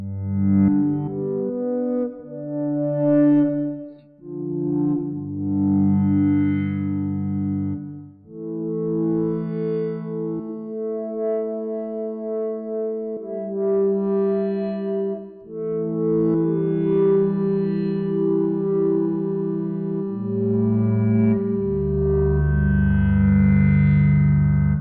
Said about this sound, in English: Let's do a five voice chord.